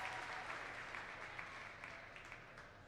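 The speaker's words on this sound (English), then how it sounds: "Nice bit of cheering from the crowd there" Spectators at a Unified Bocce match between Solanco and Penn Manor clap and cheer, a faint, distant, continuous patter of applause with no talk over it.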